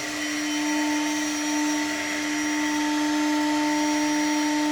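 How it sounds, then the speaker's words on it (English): A CNC router spindle warms up after homing, giving a steady, loud electric whine with a constant high-pitched tone and motor hum throughout, with no talk. "it needs to find what it thinks is its home, so 0, 0, and it also needs to warm the spindle up."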